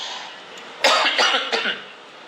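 A few close coughs in quick succession, sharp bursts breaking a quiet background.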